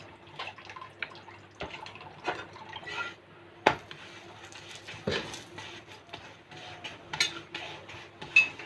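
Quiet kitchen sounds of roti being made: scattered taps, clinks and soft knocks of utensils and dough work, irregular and close, with a faint steady hum underneath.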